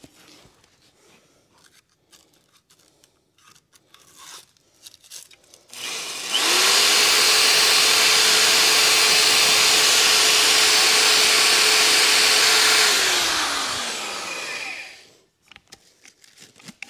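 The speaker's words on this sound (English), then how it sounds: "This is basically a homemade flap disc." An angle grinder fitted with a homemade sandpaper flap disc cleans a Meyer C8 snow plow bracket, spinning up to a loud, steady whine for about seven seconds before winding down and stopping.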